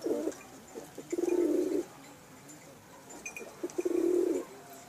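Pakistani pigeons cooing in two clear bouts of low, throaty rolling coos, close and fairly loud, with a quiet pause between them and no talking.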